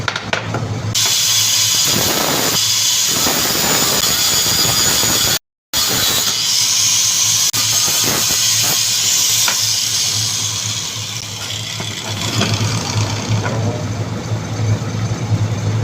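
A pipe is welded onto a broken hammer with a loud, continuous crackling hiss that stays close throughout, cut briefly by one short silent gap.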